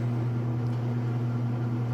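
A direct drive washing machine drum spinning fast with the lid raised: a steady, loud mechanical hum with a low tonal drone and even whirring noise, continuous and close, with no speech.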